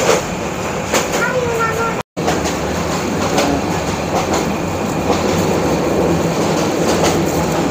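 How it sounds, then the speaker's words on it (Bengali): A passenger train runs on rails near Maijgaon station in the Sylhet region, with a loud steady rumble and clickety-clack of wheels throughout and a brief wheel squeal early on. "মাইজগাঁও স্টেশন এখন থামছে ট্রেন"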